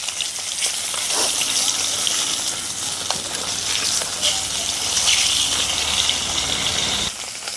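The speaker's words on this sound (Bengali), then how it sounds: "মাছগুলো একদিকে ভাজা হয়ে গেছে অন্যদিকে ভাজার জন্য আমি উল্টে দিচ্ছি" Small sati fish sizzle and crackle in hot oil as they are turned, a steady loud frying hiss that continues almost without pause.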